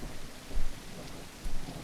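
Rain falls steadily in a video game, a dense soft hiss with low rumbles swelling briefly twice, heard alone without any talking.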